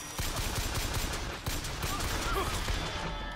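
Sustained gunfight in Bioshock Infinite, rapid overlapping gunshots crackling steadily at moderate loudness, with a few sharper close shots among the continuous fire.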